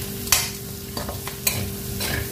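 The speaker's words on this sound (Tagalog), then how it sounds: "para maluto ang ating sibuyas at bawang" Onion and garlic fry in a pan with a soft, steady sizzle, broken by a few sharp scrapes and clacks of a utensil stirring.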